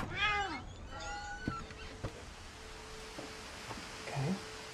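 Cat meowing in the video game What Remains of Edith Finch: several rising, plaintive meows close up at the start, then quieter game ambience with a few soft clicks and a faint low sound near the end.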